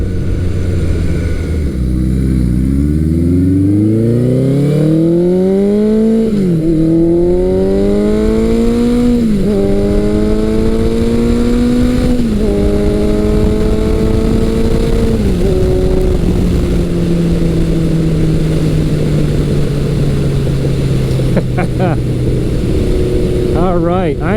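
A 1983 Suzuki GS1100L motorcycle pulls hard through the gears, its engine note climbing and dropping with each of several upshifts before settling into a steady cruise, loud and close under constant wind rush.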